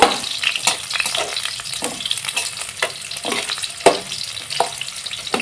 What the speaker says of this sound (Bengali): তারপরে আমি পেঁয়াজ কুচি দিয়ে দিলাম পেঁয়াজটাকে আমি একটু হালকা করে বাদামি করে ভেজে নেব